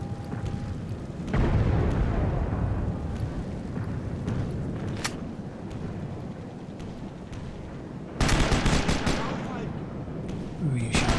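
Gunfire in the war game Sniper Elite, with rumbling battle noise, a sharp single crack mid-way and a loud burst of rapid shots near the end, voices faintly under it.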